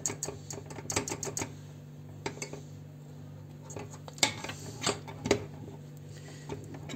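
A spoon stirs vanilla sugar and a tablespoon of butter in a pan for a wedding cake cream, with quiet, irregular metallic clinks and taps against the pot at close range.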